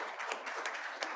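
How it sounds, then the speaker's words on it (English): An audience at a health care tea talk gives a round of applause for the moderator, a steady wash of many hands clapping throughout the short moment, moderately loud with no speech over it. "Please give her a round of applause."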